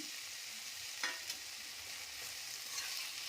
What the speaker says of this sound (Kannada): ಎಣ್ಣೆಯಲ್ಲಿ ಹುರಿದು ತೆಗೆದಿದ್ವಲ್ಲ ಕ್ಯಾಪ್ಸಿಕಮ್ ಅವನ್ನ ಹಾಕ್ಕೊಳ್ತೇನೆ